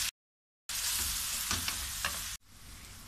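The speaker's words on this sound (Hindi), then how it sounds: "अब हम इसमें सबसे पहले प्याज शामिल करेंगे और प्याज को हम इतना फ्राई करेंगे कि बिल्कुल सॉफ्ट हो जाए।" Onions fry in oil and butter in a pan with a bright, crackling sizzle, briefly cut to silence at the start and then dropping to a quieter hiss near the end.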